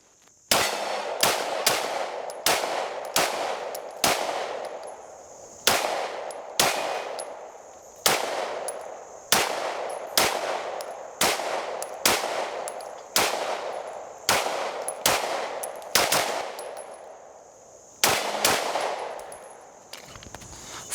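Rapid pistol gunshots from a Stoeger STR-9S Combat 9mm Glock-style handgun firing reloaded ammunition, about two dozen loud sharp reports in an irregular but steady cadence with short pauses, close and alone without talk.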